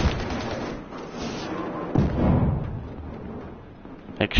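Short bursts of tap-fired gunfire in the shooter game Battlefield Hardline, loud and close, with a thumping report around the two-second mark and a final sharp crack near the end.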